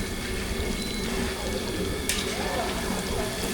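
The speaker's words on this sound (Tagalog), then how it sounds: "Lagay tayo ng tubig" Water pours in a steady, soft splashing stream on a farm, low and continuous, with a faint click partway through.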